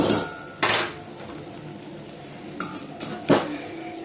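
A spoon clinks and scrapes against a pan while turmeric and ginger-garlic paste are mixed into cut okra for a Telangana-style okra stew, a few sharp metallic knocks scattered across a quiet background.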